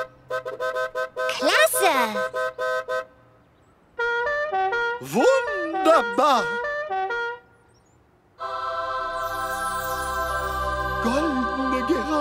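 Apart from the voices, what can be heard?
cartoon buses honking their horns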